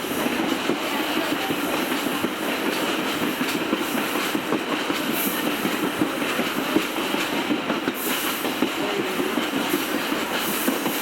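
A train of the Adirondack Scenic Railroad on the Thendara to Otter Lake line rolls along the rails with a loud, continuous rumble and steady clickety-clack, heard up close for several seconds with no talk.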